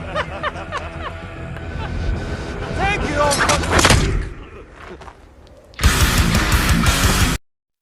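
Gunfire in a tense film scene where a miner attacks soldiers, with sharp loud bursts and heavy thuds mixed with a dramatic score and voices, ending in a dense, sustained roar.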